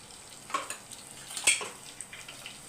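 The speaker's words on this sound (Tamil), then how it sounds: "எண்ணெய் பாதி ஹீட் ஆனோடனே சோம்பு போட்டுக்கோங்க சோம்பு பொறிஞ்சு வரட்டும்" Fennel seeds crackling and spluttering in half-heated oil, with sporadic sharp pops and a faint sizzle, and a louder burst midway.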